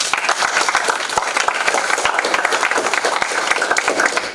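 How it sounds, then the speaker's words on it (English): Evening debate audience applauding after the judges' presentation at a school debating competition, steady dense clapping from a sizeable crowd, continuous and fairly close for several seconds. "a round of applause."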